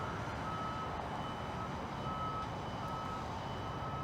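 A fuel truck at a harbor pier gives off regular reversing beeps, steady repeated tones over a constant low rumble of background noise, moderately distant and with no speech.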